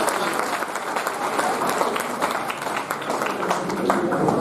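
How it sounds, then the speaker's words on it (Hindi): Loud applause for the children, a dense, sustained round of many hands clapping at close range that fills the whole stretch without letting up. "जोरदार तालियां बजाओ बच्चों के लिए"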